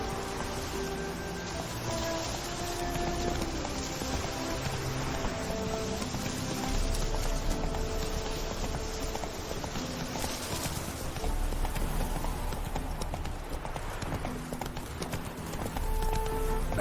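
A horse gallops in The Witcher 3 video game, steady rhythmic hoof clip-clop continuing throughout under a game music bed, with a brief swell of other sound midway.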